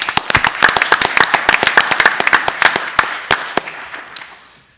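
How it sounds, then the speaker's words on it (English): Small audience at a school board meeting giving a round of applause, a few sharp, distinct hand claps in a quick uneven patter that thins out and fades. "So Emily, let's give you a round of applause."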